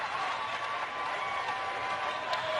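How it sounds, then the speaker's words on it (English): A Wilton Wing crowd at a girls' high school state basketball game keeps up a steady, dense roar of cheering and applause that sounds sustained and fairly distant, with no pauses. "And listen to this Wilton Wing crowd."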